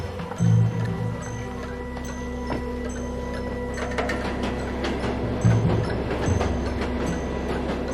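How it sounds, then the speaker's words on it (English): A train travelling on rails through wartime Korea toward Seoul, a steady low rumble with rhythmic mechanical clicking and rattling of the cars, fairly close and continuous, with no talk. "As the train neared Seoul, it became daylight"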